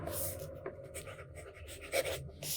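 A stub nib fountain pen with Sailor ink scratches softly across paper in close, quiet strokes with a faint, continuous rasp.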